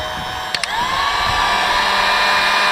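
A handheld heat gun blows hot air on a truck engine fan override switch install job, a loud, steady whooshing rush close by that starts up after a couple of small clicks and keeps running.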